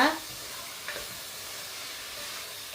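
Sri Lankan devilled prawn sauce with ketchup sautéing in a pan, giving a soft, steady sizzle with a brief scrape of stirring at the start and another midway.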